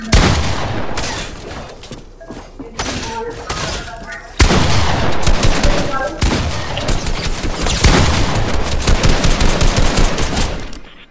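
A box fight in a shooter game brings close, loud gunfire: rapid bursts and single shots come thick after a short lull, while players talk over the action.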